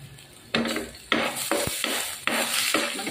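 Garlic sautéing in a pan for a beef steak dish, with a close, steady sizzle broken by several sharp stirring and scraping strokes about every half second to second.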